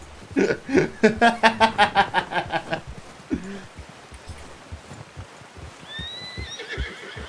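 In Red Dead Redemption 2, a horse gives a long, loud whinny in rapid pulses, followed by a steady clip-clop of hooves and a few faint chirps.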